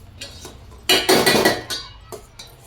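A spoon stirs semolina and sugar in a metal pan, making bursts of clattering, scraping strokes against the pan between quieter moments. No one speaks.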